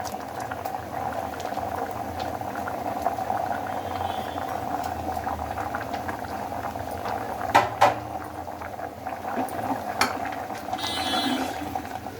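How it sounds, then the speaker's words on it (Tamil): A pot of spinach sambar with chilli powder bubbles and simmers steadily up close, with a few clinks of a utensil against the rim. "நல்லா மிளகாத்தூள் கொதிச்சிருச்சு"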